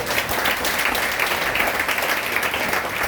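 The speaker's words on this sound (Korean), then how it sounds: "우리 박수로 감사드립니다." Congregation applauding during a Friday night church worship service, a thick, even wash of clapping from many hands, sustained and fairly close throughout.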